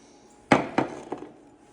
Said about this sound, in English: This is a 15 millimeter socket, 3/8. I have my 3/8 ratchet here.